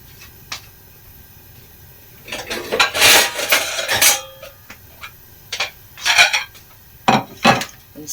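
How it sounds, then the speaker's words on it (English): A metal omelette pan is shifted around under a kitchen grill, giving several clattering scrapes and knocks in short bursts with quiet gaps between. "And same as underneath, I reposition the pan so I'm getting all sides."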